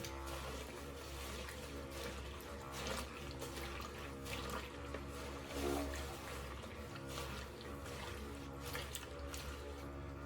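Portable washing machine spinning a load with water inside, a faint continuous low hum and watery churning with steady vibration throughout, no talking.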